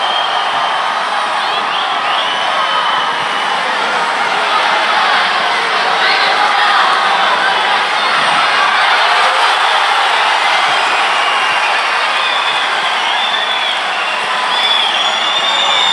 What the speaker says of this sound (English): what a crowd here, right?